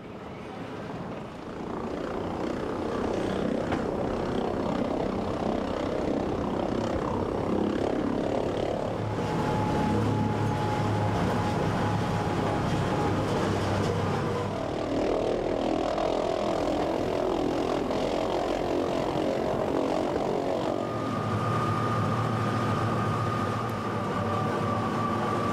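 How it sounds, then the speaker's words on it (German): A 1912 electric rack locomotive of the Swiss Wengernalp line pushes an HE22 train uphill, a steady loud rumble and whine of motors and running gear with shifting hum tones throughout, no talking. "Geschoben von der Lok 11 aus dem Baujahr 1912 ist er auf dem Weg nach oben."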